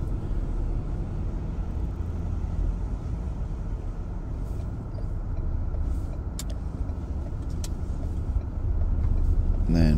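A car drives through narrow country lanes on Guernsey, its engine and road rumble steady and close throughout, with a person talking over it and the engine swelling slightly near the end.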